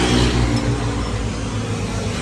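Cars streaming past on a busy road in Batangas, a continuous loud rumble of engines with a swell at the start that eases into a steady traffic roar.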